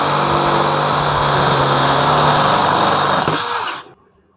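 A DeWalt DCD706 brushless cordless drill drills through steel with a loud, steady high-pitched whine, then spins down and stops near the end.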